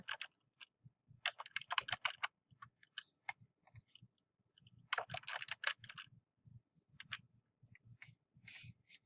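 Names being typed on a computer keyboard, with soft irregular bursts of key clicks and short pauses between words, quiet and close.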